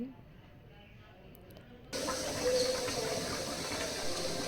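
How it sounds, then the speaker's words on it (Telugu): Beetroot dropped into hot oil in a kadai, giving a sudden loud sizzle that then hisses steadily and close by. "మరిలా నూనె పోసి కడాయిలో ఈ విధంగా బీట్రూట్ని వేయించుకోవాలి"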